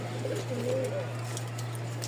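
A pigeon gives a soft, low rolling coo near the start, set against a steady electrical hum.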